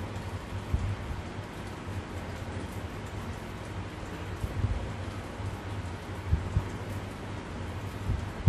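Rain falls steadily as a soft, continuous patter with light gusts and occasional louder bumps, heard alone without speech.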